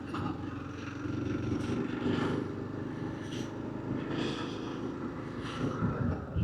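A Kawasaki-engined tractor bike runs in a lower gear with more throttle, giving a loud, steady engine drone that holds throughout with small surges in intensity.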